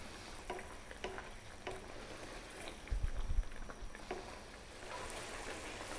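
A fish curry masala sizzles and bubbles in a pan as it is stirred, a steady soft frying hiss broken by faint scraping of a spoon and a brief lower rumble, no voices.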